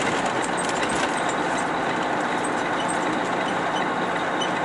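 A parked JB Hunt semi truck idles at a dead-end alley near a rail yard, a steady, loud, low engine drone running unbroken throughout.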